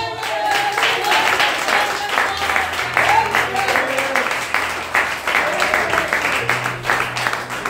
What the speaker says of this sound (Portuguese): Se você crê nisso, aplauda bem forte.